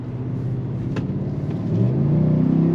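A 2023 Chevrolet Tahoe RST pulls forward under acceleration, a loud low engine drone whose pitch climbs, dips and rises again as the 10-speed automatic shifts.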